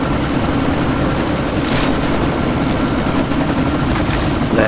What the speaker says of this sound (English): I need to ground that chopper permanently.